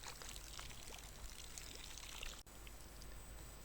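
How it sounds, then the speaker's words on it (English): Plain water pours and splashes over an animal hide being rinsed, a continuous close trickling wash with a brief dip partway through before the flow resumes. "I wash the hide several times with plain water"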